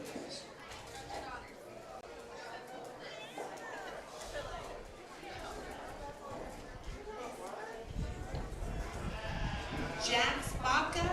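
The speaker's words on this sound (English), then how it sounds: "coming into the ring now, we've got Jax Baca up in front and Caleb Terry behind. Both bringing in their sheep" Sheep bleat intermittently as they are led into a county fair show ring, mixed with crowd chatter and an announcer's amplified voice, with hoof and footstep sounds and louder bleats near the end.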